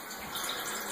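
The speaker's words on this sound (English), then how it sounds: "I'm just filling this up with water, cold water right now out of my tap" Cold tap water pours into a homebrew hot liquor tank during a leak test, giving a steady, moderately quiet rushing splash that lasts the whole moment without any talking.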